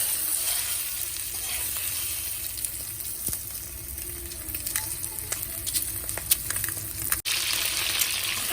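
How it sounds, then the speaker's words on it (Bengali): Eggs sizzle and fry in a hot pan with a steady, close crackle that runs throughout, a few brief clicks and a short scrape near the end and no talking. "চলে আসলাম ডিম ভাজতে ডিমটা ভেজে তুলে নিয়ে তারপর তরকারিটা বসাবো"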